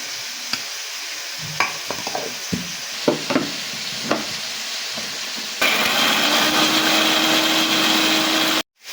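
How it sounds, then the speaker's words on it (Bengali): An electric mixer grinder blitzing whole cumin and green chillies into paste, with scattered clatter and taps first, then a loud steady whirring drone for about three seconds that cuts off abruptly near the end. "এবার আমি এটাকে মিক্সিতে পেস্ট করে নেব।"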